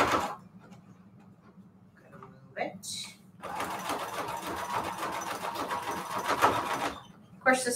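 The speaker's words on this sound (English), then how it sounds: "So let's sew the next line here," A sewing machine runs stitching a line across a patchwork fabric cover, a steady buzzing whir of several seconds after quieter handling noises, with brief bursts starting and stopping near the end.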